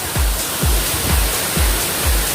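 Batlag Falls in Tanay, Rizal roars nearby, a dense, steady rush of falling water and spray with low rhythmic thumps, likely wind buffeting, close and loud with no voices.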